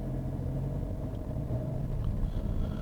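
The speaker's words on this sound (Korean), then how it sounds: "이렇게 멈춰있는 상황에서 가속을 할 때 엔진 소리를 들어보면요" A Peugeot 3008's 1.2 PureTech engine with a six-speed automatic pulls away from a stop, giving a steady low drone heard from inside the cabin. The sound is even and fairly quiet throughout, with no voices.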